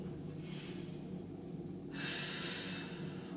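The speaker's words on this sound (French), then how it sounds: "Toujours avec la respiration lente et profonde." During a home core-mobility stretching session, slow deep breaths are drawn in and let out close to the microphone, two long airy breaths in a quiet room.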